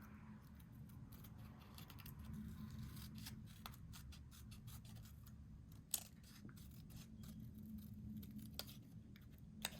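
Scissors trim paper for a boho-style journal, giving quiet, irregular snips and light paper rustles at close range over a soft background hum.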